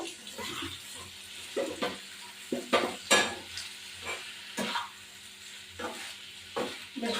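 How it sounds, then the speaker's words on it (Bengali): Chicken biryani stirred while frying in a pan, steady sizzling under a series of rhythmic scraping strokes about every half second to second, close and moderately loud with no talking. "এবার বেশ করে এটা নাড়া দেবো"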